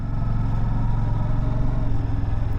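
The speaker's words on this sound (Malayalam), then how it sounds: "വണ്ടികളൊക്കെ അങ്ങോട്ടും പോകുന്നുണ്ട് ഇങ്ങോട്ടും പോകുന്നുണ്ട്." Engines of vehicles moving in both directions on a road near Kodaikanal, a steady loud rumble of car and motorbike motors with a low throbbing pulse and no clear gaps between them.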